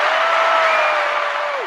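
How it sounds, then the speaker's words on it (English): Audience applause greeting guest Shay Channel on a morning show: a dense, steady wash of clapping from a room crowd, loud and close, with a sustained tone ringing underneath that bends away at the end. "Let's clap."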